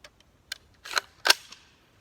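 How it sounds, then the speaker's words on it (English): An NcStar AR-15 golf ball launcher fires outdoors: a few light clicks, then two sharp, close pops in quick succession, the second the loudest, each trailing off briefly. "So, anyways, guys, NC Star golf ball launcher."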